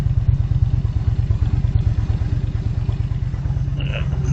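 Motorcycle engine idling then riding, a loud, close, rapid low rumble with steady pulsing throughout and faint clatter on top.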